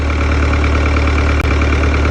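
An Oliver 1355 tractor engine idling roughly up close, a loud, steady low throb with an uneven pulse throughout and no talking.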